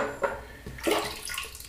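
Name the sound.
water added to shaving brush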